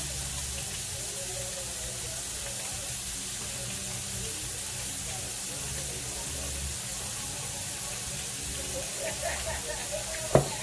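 Pre-minced garlic is stirred into a frying pan for keto fried rice made with Miracle noodles. A low, steady sizzle holds throughout at moderate distance, with faint stirring scrapes and a sharp clink near the end.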